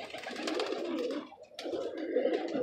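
Pigeons at a racing loft coo and flutter close by, a steady murmur of soft calls with brief wing movement, one short lull midway, and no talk.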